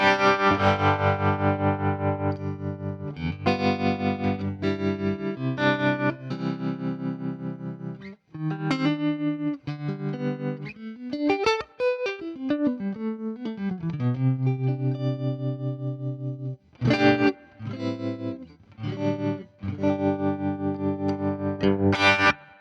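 Electric guitar played through Fractal Axe FX factory presets, heavily distorted with chorus-like effects, alternating chugging chords and melodic bends, with short pauses, close and loud without talk.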